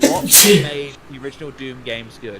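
A loud, sharp sneeze bursts out near the start, followed by people talking casually in a podcast conversation.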